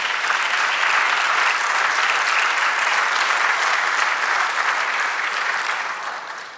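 Sustained congregational applause during a church sermon, a dense, even wash of many hands clapping at steady loudness for several seconds before tapering off at the end.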